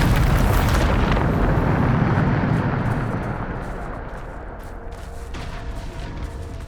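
A Bombarda spell blast in Hogwarts Legacy erupts as a loud, close booming explosion, its dense rumbling roar slowly decaying over several seconds with scattered crackling debris.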